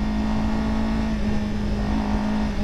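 A 2024 Honda Fireblade motorcycle engine runs steadily at a high, even rev with a constant droning hum, close and loud, with no talk over it.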